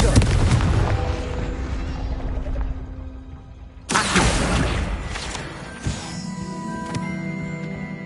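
Confringo fire spell blasts in the video game Hogwarts Legacy on PS5, two sharp explosive bursts a few seconds apart with rumbling decay, layered over game background sound.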